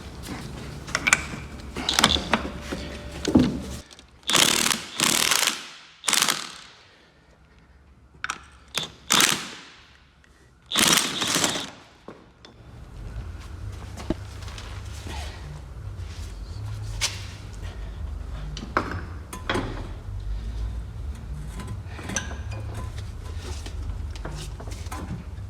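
A ratchet on a 1/2 inch wobbly extension working a front strut bolt on a Vauxhall Astra J, loud clustered clicking bursts up close, then a quieter steady mechanical hum.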